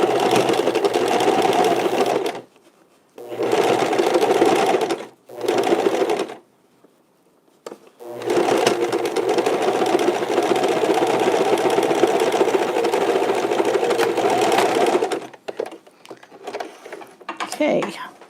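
A sewing machine runs in long steady bursts while top stitching a face mask seam, with several short pauses between passes and one long continuous run, loud and close.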